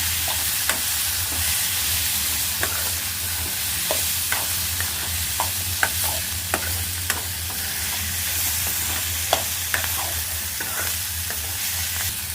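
Flat runner beans and chickpeas frying with turmeric in a pan, a steady low sizzle with frequent light scrapes and taps of a spoon as the mixture is stirred, close and without voices.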